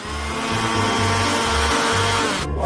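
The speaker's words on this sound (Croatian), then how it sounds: "Uradit ću to brzo uz pomoć miksera." An electric motor whirs loudly and steadily, its pitch pulsing in short cycles before cutting off near the end.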